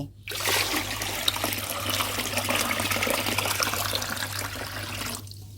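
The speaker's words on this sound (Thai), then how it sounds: "เราใช้เป็นน้ำดื่ม5ลิตรค่ะเทลงไปในขั้นตอนนี้เลย" Five liters of drinking water pour steadily into a honey wine mix, a loud continuous splashing gush that starts abruptly and stops near the end.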